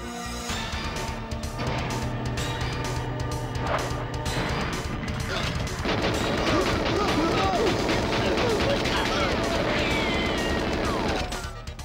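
A grenade blast hits a group of guards in GoldenEye 007, a heavy crashing explosion that swells into a dense roar of rumble and debris, loud and sustained over game music and clatter, with a voice talking over it.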